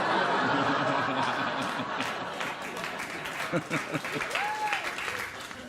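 Applause from a late-night talk show studio crowd fills the clip, a steady wash of clapping that slowly thins, with scattered laughter and a brief voice near the end.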